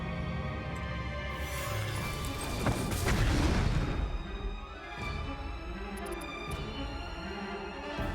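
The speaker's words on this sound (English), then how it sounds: "Look, we have a grenade." A grenade explodes in the turn-based roguelite RPG Hand of Merlin: one loud, broad blast swells near the middle over a dense, continuous game soundscape, then fades into steady background ambience.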